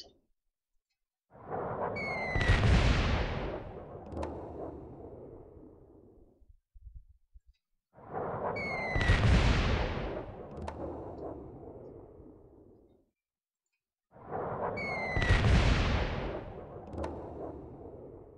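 Three bombing-run explosions in the Civilization 3 strategy game, each a booming blast with a rising whoosh and a long rumbling decay, spaced roughly six seconds apart with near silence between them.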